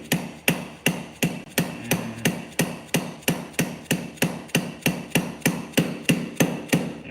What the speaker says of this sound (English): you hammer it in all the way to make sure everything lines up